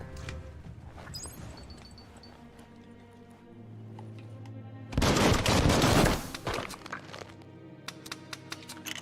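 Gunfire in the video game Biomutant: scattered shots early on, then a loud sustained burst of automatic fire, followed by a few sharp separate shots, with faint game music underneath.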